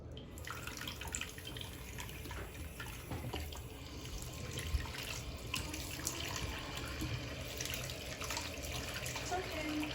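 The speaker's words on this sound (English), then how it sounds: "Here, I'll add more warm water." Warm water runs steadily into a small bath for a hedgehog, a continuous faint splashing and trickle that fills the whole stretch with occasional drips.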